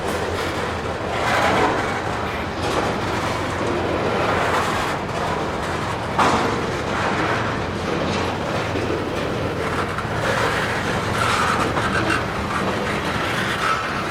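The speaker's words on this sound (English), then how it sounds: "it could be why this train is being powered with Kansas City Southern locomotives" A freight train of ethanol tank cars hauled by Kansas City Southern locomotives rolls past near Tampa, a loud continuous rumble with rhythmic wheel clatter over the rails.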